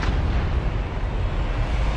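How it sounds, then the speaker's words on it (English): A loud, sustained rumbling blast from an explosion in the Elder Scrolls Online video game, dense broadband roar filling the whole moment without pause. "That explosion!"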